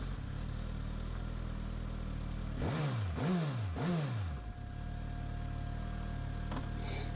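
A Suzuki GSX-S1000GT sport touring motorcycle idles close by, then gets three sharp throttle blips that rise and fall in quick succession before settling back to a steady idle.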